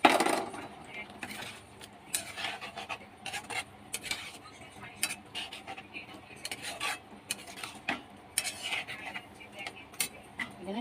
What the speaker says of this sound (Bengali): এবার আমি এখানে ছোলার ডাল মেশাবো, আগে থাকতে সেদ্ধ করে রেখেছিলাম।